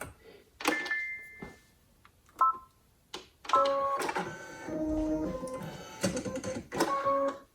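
A Brother Innovis V5LE embroidery machine stitches out a tea towel design, giving bursts of fast mechanical whirring and clicking with short pauses between runs, close and fairly loud, with no talk.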